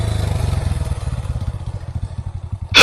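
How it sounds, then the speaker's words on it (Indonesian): A classic motorcycle engine chugs past with a rapid, even pulsing beat that slowly fades as it moves away, ending in a sudden loud burst of noise. "motor klasik ini pasti"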